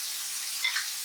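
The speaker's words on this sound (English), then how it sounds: "They're starting to sizzle very nicely." Green tomato slices fry in hot oil, giving a steady, close hiss of sizzling with a few faint pops near the middle.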